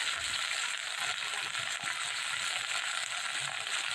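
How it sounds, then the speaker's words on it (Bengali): Spices, ground masala, salt and slit green chillies frying in hot oil for Bengali tel koi fish curry, a steady, dense sizzle that holds loud and even for the whole stretch with no talk. "সব উপকরণ দিয়ে দিলাম। পরিমাণ মতো লবণ, ভালো করে ভেজে নেব।"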